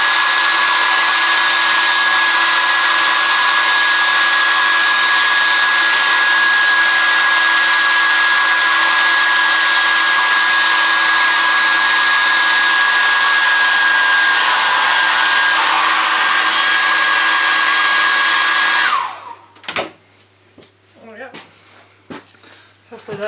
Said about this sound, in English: Use the hairdryer to get the top part melted